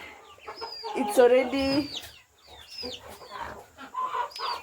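Chickens cluck and call inside a crowded poultry coop on a farm, a busy mix of close, irregular clucks and squawks, with a person briefly speaking over the birds.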